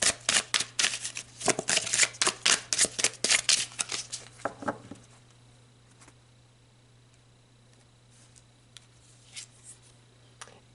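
Rapid riffling and snapping of tarot cards being shuffled by hand, a quick dense burst of crisp flutters for about five seconds, then a few faint soft card taps in a quiet room.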